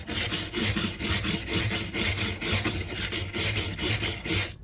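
A stiff wire brush scrubs rust off a metal lopper in quick, rhythmic back-and-forth strokes, a harsh, close scraping that repeats steadily without pause.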